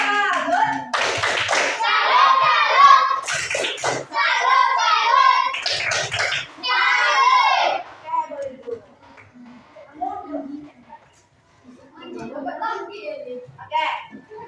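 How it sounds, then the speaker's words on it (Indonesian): A classroom of students claps out a rhythmic patterned salute in quick bursts, sharp hand claps in sequence that then give way to softer talk and scattered voices. "tepuk salut dulu untuk temannya"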